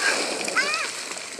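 Water from a pool sprinkler splashes continuously and close by, a steady hiss and spatter with children's voices calling over it.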